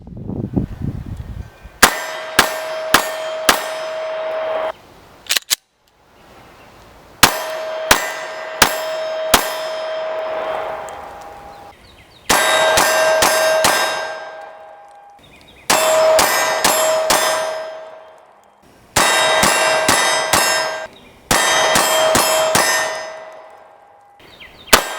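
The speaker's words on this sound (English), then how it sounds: "we're going to shoot the P07 first, and then we're going to come in with the Glock 19 and shoot it side-by-side" CZ P07 pistol fired at steel targets, ringing in short rapid strings of four to six sharp clangs, each followed by a sustained metallic ring, repeated in several separate volleys with pauses between.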